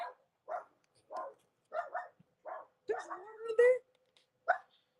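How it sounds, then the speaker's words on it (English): Small dogs bark in short repeated bursts, about eight sharp yaps spread evenly across a few seconds, close by and fairly quiet, with some whining mixed in and faint speech alongside. "They literally bark at nothing."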